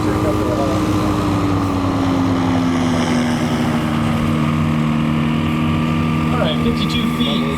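A light sport airplane touches down and brakes on a short-field landing at a STOL competition in Valdez, its steady propeller and engine drone loud and close throughout, with commentary voiced over it.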